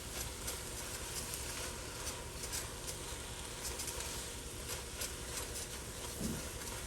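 Shrimp and cauliflower fried rice frying in a very hot pan, a steady close sizzle with faint scraping as it is stirred, continuous and even throughout.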